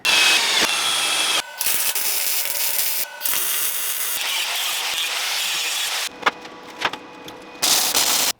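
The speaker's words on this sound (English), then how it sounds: "drill a couple holes and tap the holes in this" Loud power tool whirring in long bursts with brief pauses, then short grinding and tapping bits of a drill drilling and tapping holes in metal for hinge mounts on a DIY laser cutter enclosure.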